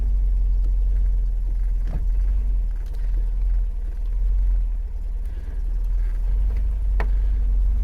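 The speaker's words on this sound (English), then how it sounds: "Battery's charged up, got the car running." An MG GT car engine runs at a steady low idle, a continuous deep rumble heard alone with a couple of faint clicks and knocks over it.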